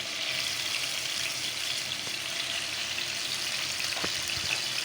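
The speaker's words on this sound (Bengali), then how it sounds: "এভাবে আমি অল্প আঁচে ভাজতে থাকবো" Chicken shashlik frying in oil on low heat, a steady even sizzle throughout with a couple of faint clicks, close by and moderately quiet with no voices.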